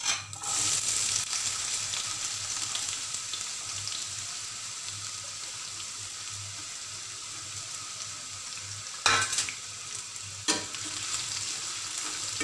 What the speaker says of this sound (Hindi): अब इसके अंदर मैं प्याज डालूंगी।